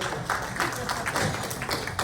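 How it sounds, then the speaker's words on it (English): Scattered audience applause at an improv comedy troupe show, a brief patter of claps over a dense roomy wash, fairly faint and without speech. "Give her a round of applause."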